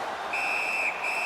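A referee's whistle in the ice hockey video game NHL 19 on PS4 blows one shrill, sustained blast with a brief break near the end, over a steady wash of arena crowd noise.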